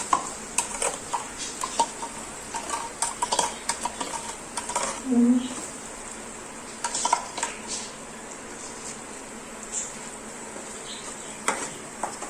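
A spoon scrapes and taps through a dum aloo mixture in a pan, with soft sizzling underneath, intermittent clinks scattered across a dozen seconds and a brief tonal squeak midway.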